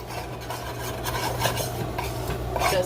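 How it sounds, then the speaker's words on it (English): Curry powder toasts in a hot pot while it is stirred and scraped, making a continuous close scraping and rasping with light metallic clinks and a faint sizzle over a low steady hum. "Just burning off some curry"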